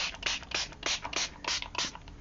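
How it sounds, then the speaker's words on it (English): An Izink dye spray bottle mists a journal page in a quick series of about eight hissing bursts, close and fairly soft, with no talking. "I'm just going to basically spray the background"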